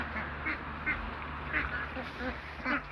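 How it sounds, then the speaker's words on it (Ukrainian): Ducklings quack in short, soft bursts every half second or so while being herded, a small flock fairly close, with faint low background noise. "Зараз будемо каченятка заганяти."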